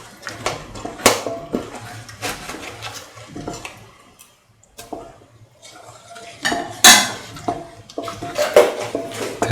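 A spoon stirs a sweet coconut milk pasta mixture in a pan, giving irregular scraping clinks and soft wet sloshes close by, with a brief lull midway.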